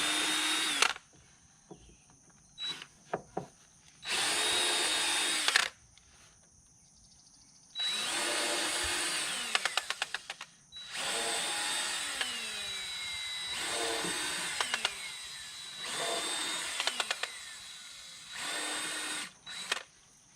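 A power drill bores through 2x4 lumber in repeated loud bursts a few seconds long, whining at high speed between short pauses, with quieter handling noises in the gaps.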